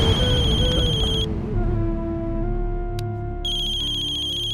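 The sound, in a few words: phone ringtone, incoming call from the lawyer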